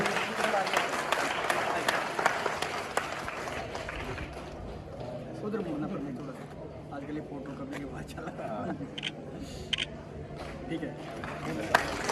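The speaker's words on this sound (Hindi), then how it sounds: "बच्चों जोर से तालियां बजनी चाहिए" An audience at an Azadi Ka Amrit Mahotsav community ceremony claps for honoured soldiers, with brisk clapping strongest at the start before thinning out. An announcer keeps talking over a murmuring crowd.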